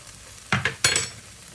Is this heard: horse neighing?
no